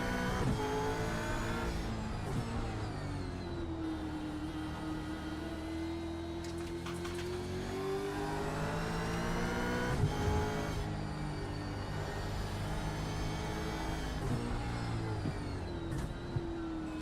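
V8 Supercar engines in the iRacing sim at Circuit Gilles Villeneuve, a steady loud drone with rising and falling revs and gear changes as several cars run close together, no talking.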